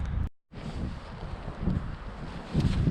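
Gusty wind buffets the microphone at a high, exposed California campsite in a loud, rumbling roar that swells and eases, briefly cutting out near the start.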